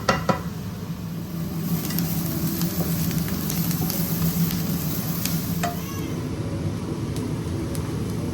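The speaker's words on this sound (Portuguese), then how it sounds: "a gente cora uma cebola e joga em cima" Onion browning in a frying pan, with a steady close sizzle of frying and a few light utensil clicks and scrapes throughout, no talking.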